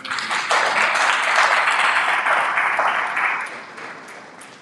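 Audience applause for the president of a pharmacists' association at a World Pharmacists Day event, steady dense clapping from a crowd that holds for about three seconds, then thins and fades out.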